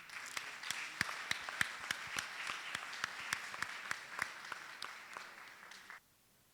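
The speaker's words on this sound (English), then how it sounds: "We have a big round of applause for our ambassador." An indoor audience at a UAE economic Q&A session claps for the ambassador, a dense, steady round of applause with sharp individual claps that holds for about six seconds and then cuts off abruptly.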